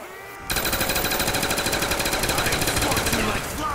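Sustained automatic gunfire from the Call of Duty Black Ops zombies mode on PS3, a loud rapid burst of evenly spaced shots starting abruptly and running for about three seconds before cutting off.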